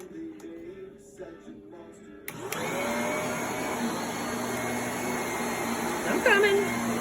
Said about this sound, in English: You can vacuum the hallway too on your way over there.